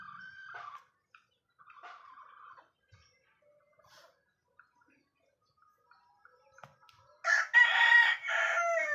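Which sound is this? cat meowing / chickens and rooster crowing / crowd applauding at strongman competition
chickens and rooster crowing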